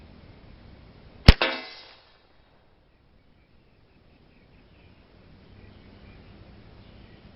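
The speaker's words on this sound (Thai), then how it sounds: "ผมยิงเป้าซ้ายนะนี่" A single sharp rifle shot from a Ruger 10/22 carbine fired at a target, close and loud, with a brief ringing decay and then near silence.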